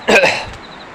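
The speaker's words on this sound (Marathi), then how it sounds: "सर्दी झाली त्याच्यामुळे शिंका येत आहेत" A single short cough or throat-clearing burst from a person with a cold, close and fairly loud, lasting well under a second before fading into quiet outdoor background.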